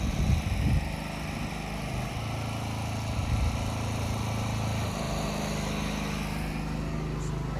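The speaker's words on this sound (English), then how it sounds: "I'm fighting against the wind and a pressure washer today" A small gasoline pressure washer engine drones steadily outdoors beside a 2002 Logan Coach four-horse trailer, with wind buffeting over it, a loud continuous hum that swells briefly near the start.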